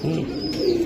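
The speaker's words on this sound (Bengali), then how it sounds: "তোতা শেপের কবুতর।" A tota-shaped pigeon gives a single low, soft coo up close. The call is short and rounded, with no voices around it.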